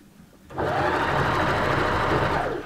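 A sewing machine stitches pieces of upcycled old clothing fabric together, starting abruptly and running as a loud, steady, rapid whir for about two seconds with no talking.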